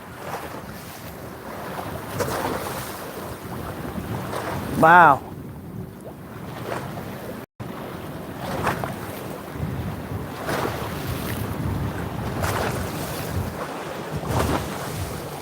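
Waves from a passing boat's wake wash and churn steadily against the shore while wind buffets the microphone; a brief exclamation cuts through midway.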